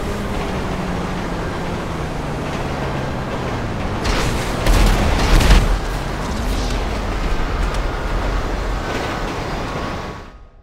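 A train ride in the GTA video game gives a continuous loud rumble and mechanical clatter, with heavier booming thuds partway through and the noise cutting off at the end.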